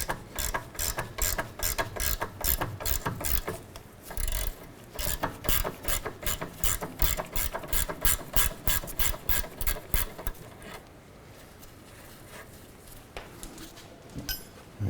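A ratchet clicks rapidly and steadily while loosening a sway bar link nut on a 2008-2012 Honda Accord, a close, dense run of pawl clicks that stops after about ten seconds, leaving quieter handling noise.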